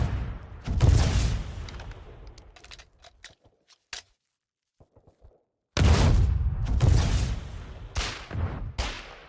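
In the Foxhole war game, an RPG fires and explodes near an ice tank, giving heavy booming blasts with sharp gunfire bursts, then a near-silent gap before another run of loud, dense explosions.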